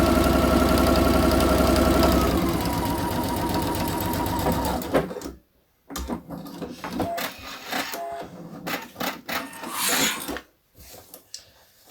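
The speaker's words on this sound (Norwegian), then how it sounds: "Og nå skal jeg sy stikningene, så jeg øker stinglengden min til 3 mm." A domestic sewing machine stitches seams on a jacket, running in a steady loud whir for a couple of seconds, then continuing in short stop-start bursts with brief pauses between runs.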